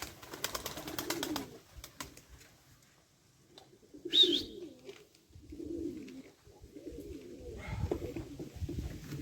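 Pigeons coo close by in soft, throaty rolling phrases, repeated several times with short pauses between, with a little rustling in the background.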